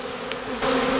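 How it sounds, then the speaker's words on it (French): A honeybee swarm buzzes around a hive, a dense, steady drone of many wings close by that swells louder halfway through, with no talk over it. "Les abeilles ont tendance à partir vers l'extérieur"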